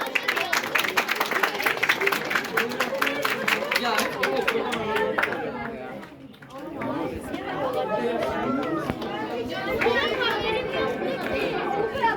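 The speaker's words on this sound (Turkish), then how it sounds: "Yağmur alkışlarla uğurluyoruz" Children and adults applaud at a school painting competition award ceremony, with a burst of clapping in the first seconds fading into loud crowd chatter and children's voices.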